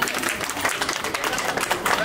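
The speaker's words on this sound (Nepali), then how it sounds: "ताली है ताली" A group claps together in a steady, dense patter, with voices talking over and around the clapping throughout.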